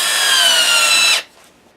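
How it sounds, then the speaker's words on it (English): A drill bores into a wooden dowel with a loud, steady high-pitched whine for about a second, then cuts off abruptly, leaving quiet workshop ambience. "Next step, insert dowel and drill."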